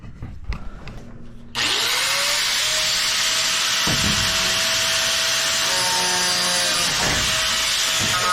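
A power saw cuts through the steel cable of a box truck's roll-up door, starting after a short quiet stretch with a loud, steady grinding whine that runs unbroken to the end, with a few knocks under it.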